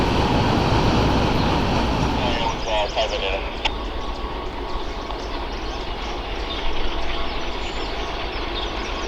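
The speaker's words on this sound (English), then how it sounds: "Fresh out of the yard now is intermodal train CSX I-159." CSX intermodal freight train I-159 pulling out of the Selkirk rail yard, a steady broadband rumble of rolling cars with a brief squeal and clatter early on, loud and close throughout.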